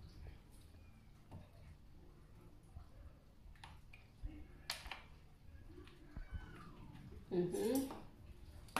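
Kachumbari salsa being tossed with lemon juice in a bowl, soft clinks and scrapes of a utensil against the dish, quiet and intermittent, with a louder cluster of knocks near the end.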